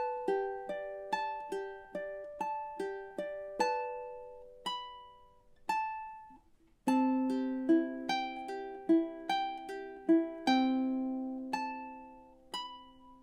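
Solo fingerstyle ukulele plays a Spanish Romance passage high up the neck, bright plucked notes ringing in a steady rolling pattern, pausing briefly before moving into a lower, fuller phrase, close and clean.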